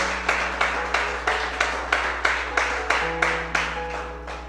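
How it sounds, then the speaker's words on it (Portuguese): Congregation clapping together during a church service, about a dozen evenly spaced, sharp group claps in a steady rhythm over a constant low hum. "Se você pode, aplaudir o Senhor em nome de Jesus."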